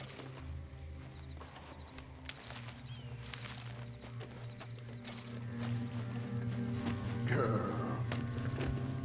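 Horse galloping in Red Dead Redemption 2, a steady rhythmic run of hoofbeats carried along under continuous outdoor game ambience, with a faint rider's voice briefly audible.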